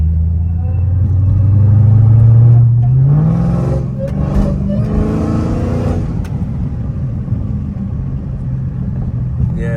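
An 820 hp Dodge Hellcat Redeye accelerating in auto mode, heard close from inside the car. The engine note climbs loudly over a few seconds, then settles into a steady, deep rumble, with someone talking over it.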